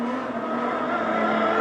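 Modified sedan race cars roar around a speedway oval, racing bumper to bumper into a turn. A loud, sustained engine drone holds a steady pitch, with no break across the short stretch.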